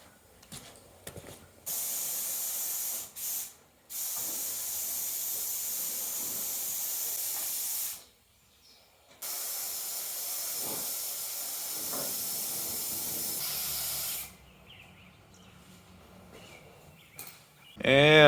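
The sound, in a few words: spraying primer paint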